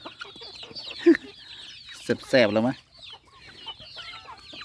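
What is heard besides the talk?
chickens clucking while being fed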